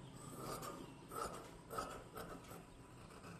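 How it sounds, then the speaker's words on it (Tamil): Tailor's scissors cut princess-cut blouse fabric for a boat-neck blouse with a few slow, rhythmic crunching snips, close and fairly quiet, with no talking over them. "இந்த ஃப்ரண்ட்டில் இந்த பிரின்சஸ் கட்டிங் நான் வெட்டுறேன்."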